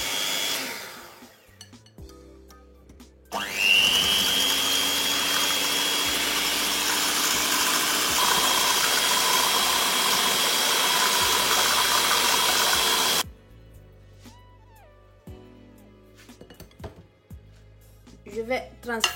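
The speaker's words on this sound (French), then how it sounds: "Ensuite, à l'aide du mixeur à main, je vais mélanger le tout." A hand blender whirs steadily for about ten seconds as it mixes lemon juice into homemade salad cream, starting with a sharp rise in pitch and then holding a loud, even drone before cutting off abruptly, with faint kitchen clatter around it.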